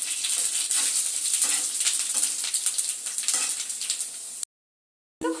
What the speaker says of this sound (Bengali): এবার কিন্তু আমি 1 চামচ 5 ফোড়ন দিয়ে দেবো এই তেলের মধ্যে।